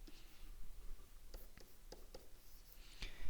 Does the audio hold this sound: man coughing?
no